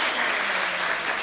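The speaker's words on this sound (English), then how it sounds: "So a big clap for all three families." A room full of people claps steadily for three families at a church family service, a dense, even patter of hands held at constant loudness for the whole moment.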